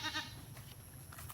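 A goat on a farm in Biliran, Philippines bleats in a short wavering cry, faint and somewhat distant, followed by quiet farmyard ambience.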